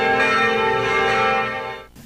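Church bells ring together across the country in a simultaneous tribute, including Manila Cathedral, making a sustained, loud, resonant ringing with layered overtones that continues steadily and then cuts off near the end.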